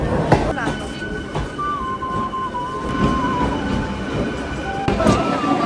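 A train to Ranaghat rolls into a station with loud rumbling, clanks and a long squealing brake whine, while people talk faintly nearby.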